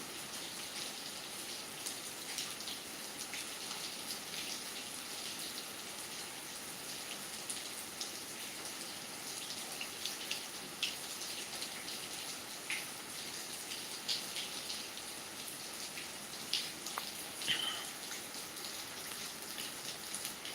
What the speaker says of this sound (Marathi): पत्र्याच्या पलंडमधून पाणी खाली येताना दिसत आहे